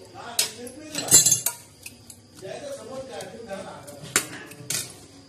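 A spoon scrapes and clinks against a pan as dill greens are sautéed in oil with ground peanut paste. The irregular metallic knocks and scrapes come close by, with a few louder clanks mixed in.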